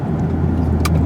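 Cadillac CTS-V with a V8 engine, a steady close rumble of the running car with a brief bright click or jingle near the end, no talk.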